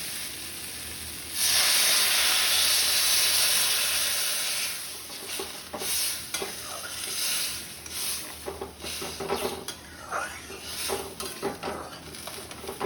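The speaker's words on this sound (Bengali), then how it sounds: "এবার আমি জল দিয়ে দেবো" Water poured into a hot pan of vegetables spiced for a Bengali pomfret dish sets off a loud steady hiss that swells, then settles into softer bubbling and stirring clatter, with no talk.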